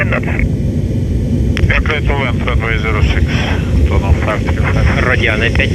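An Antonov An-124-100 on landing approach gives a continuous loud engine roar throughout, with cockpit voices and radio calls heard over it.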